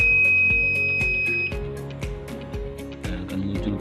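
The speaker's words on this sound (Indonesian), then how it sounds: "ini ada mulai alarm ya kalau waktu ikoma mau habis" Digital prayer clock (An Najah JWS RGB) alarm signalling that iqamah time is ending: a steady run of sharp beeps, about two per second, loud and close over a faint background hum.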